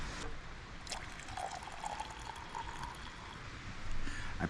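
Boiled water pouring from a camp kettle into a cup for cappuccino while camping outdoors, a soft, steady close trickle under faint outdoor ambience.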